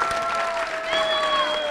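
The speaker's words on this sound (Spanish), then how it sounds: "Aplausómetro para Tormenta, aplausos por favor." Audience applause and crowd noise for the robot Tormenta at a Hebocon robot contest, a dense, steady clapping wash lasting under two seconds, with sustained tones running through it.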